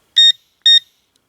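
A Garrett Pro Pointer metal detector gives two sharp, loud electronic beeps as it switches on, evenly spaced about half a second apart, then falls silent.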